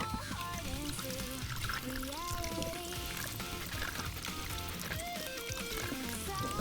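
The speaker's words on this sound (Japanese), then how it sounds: "ちょっと水で流しましょうか。" Water runs from a tap in a steady pour while a sticky, degraded computer mouse part that has been cleaned with baking soda is rinsed, with the splashing and trickling continuing throughout.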